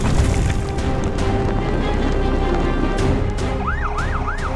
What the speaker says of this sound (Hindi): सायरन की गूंज शांत हवाओं को चिरती हुई आगे बढ़ती है।